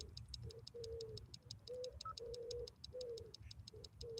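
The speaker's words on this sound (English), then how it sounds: "Can you hear all the like pigeons and the doves making a racket?" Pigeons and doves coo in repeated low phrases, with a steady rhythmic clicking of a meter running underneath throughout.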